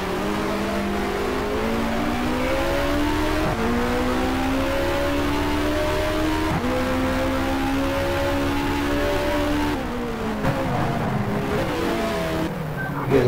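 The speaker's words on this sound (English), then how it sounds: "Bunch of cars coming out of pits" Engine roar from race cars pulling out of the pits in the F1 Challenge game at the Monaco circuit, 1960 season: several overlapping engines rising in pitch as they accelerate, loud and continuous throughout.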